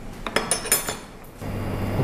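A utensil scrapes and clinks against a wok while beef rendang is stirred, a few sharp metallic knocks in the first second, then a steady low sizzle.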